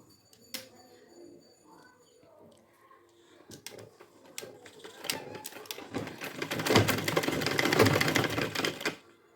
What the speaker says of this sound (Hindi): अब एक बार ऊपर से और कर देंगे सिलाई, ताकि ये सिलाई प्रॉपर इस पर बैठ जाए।